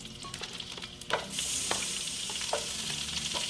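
Chopped onion hits warm olive oil in a pan, bursting into a loud, steady sizzle partway through after a few soft clinks and rustles, with occasional scraping from stirring.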